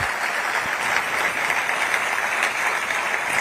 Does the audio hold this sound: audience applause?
yes